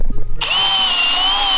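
A power drill boring holes over wood while working on a '69 Dodge Charger, starting abruptly after a moment of faint noise and whining steadily and loudly at close range without pause.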